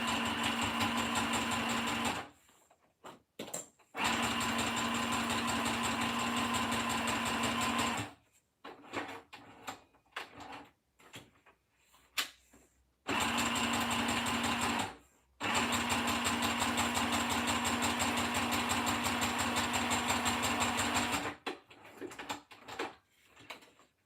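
A sewing machine runs in long steady stitching bursts while stitching a pocket inside zigzag lines, loud and close, with pauses of handling and rustling between runs.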